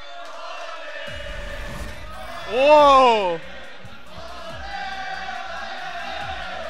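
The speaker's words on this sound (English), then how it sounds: "The crowd going nuts with the Olay chant." Esports tournament crowd at a Street Fighter 5 event in Manila, with a roaring swell of cheering and rhythmic chanting under ongoing commentary; a brief loud surge peaks mid-clip, then settles into steady crowd noise beneath talk.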